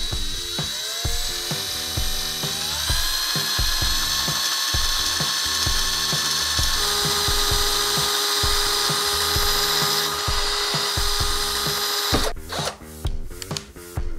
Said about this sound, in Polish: Kiedy wiercimy w metalu, ustawiamy sobie prędkość tak po środku.